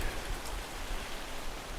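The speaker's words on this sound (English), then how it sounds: "Oh, it's actually raining." Steady rain pattering down outdoors at an off-grid homestead, a continuous soft hiss of drops on surfaces with no talking over it.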